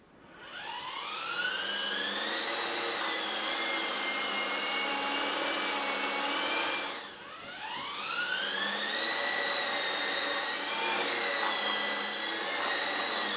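An RC helicopter's small electric motor and rotor whine up to a high pitch, cut off briefly, then spin up again and hold a steady, close buzzing drone.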